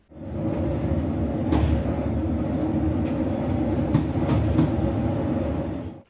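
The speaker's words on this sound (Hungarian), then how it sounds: "Szendrőn a vonat megáll még egy helyen, a város egy másik részén" Train running on Hungarian railway line 94 near Szendrő, a steady loud rumble of wheels and carriages lasting throughout, with a few sharp clanks and rattles over the track and no voices.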